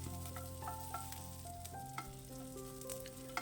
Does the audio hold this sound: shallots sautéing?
yes